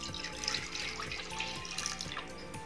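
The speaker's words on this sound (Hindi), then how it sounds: "कढ़ाई में मैं दूध डाल दूंगी" Milk is poured into a kadhai for rabri: a steady, continuous liquid stream splashing into the metal pan, close and moderately loud, with no talking.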